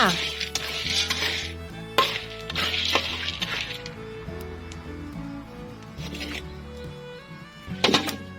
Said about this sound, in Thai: หลังจากนั้นป้าอ้วนก็จะทำการคั่วถั่ว เพื่อที่จะเอาไว้ทำน้ำพริกค่ะ